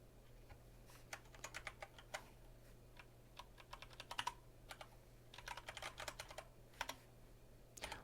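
Keystrokes on a computer keyboard as a terminal command is typed, a quiet, irregular patter of clicks in short bursts with pauses between them, heard alone with no talking.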